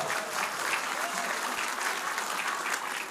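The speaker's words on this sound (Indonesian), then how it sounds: "Tepuk tangan dulu dong untuk Pontianak." A crowd at a political campaign event in Pontianak claps in a loud, dense, continuous round of applause lasting several seconds.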